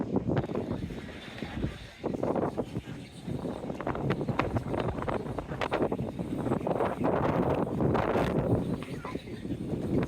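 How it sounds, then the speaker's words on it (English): Gusty wind roars across the microphone in uneven bursts on a seafront, with outdoor bustle and occasional voices mixed underneath. "Definitely a windy seafront today."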